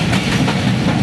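Train pulling into Malir railway station in Karachi, a loud close rumble of railcars with rhythmic clickety-clack over the rails.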